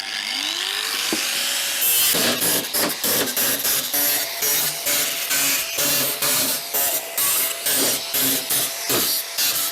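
An angle grinder fitted with a Gerard cutting disc spins up with a rising whine, then bites into the workpiece in a loud, close series of rhythmic grinding pulses that continue steadily to the end.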